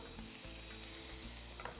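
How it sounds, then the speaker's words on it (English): Chopped onion sizzles steadily in a pan of hot extra virgin olive oil, a close, continuous crackling hiss with a brief stir partway through. "Get a nice sizzle."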